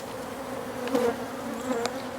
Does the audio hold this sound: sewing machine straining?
no